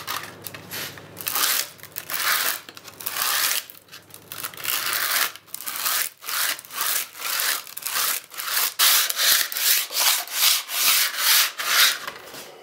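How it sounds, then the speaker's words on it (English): Sandpaper clamped over a tool rubs back and forth against a workpiece in steady, close, loud rasping strokes, with a short pause early on and quicker regular strokes toward the end. "This is a piece of sandpaper clamped over the thing."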